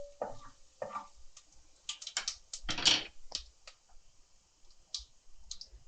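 Mustard seeds, cumin and a few fenugreek seeds splutter in hot oil for sambar, giving sparse, quiet pops and crackles scattered irregularly over several seconds.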